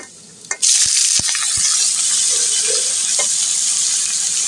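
Bottle gourd greens drop into hot oil in a pan with a clatter, then a loud, continuous hiss of frying holds steady to the end, with a few scraping touches early on.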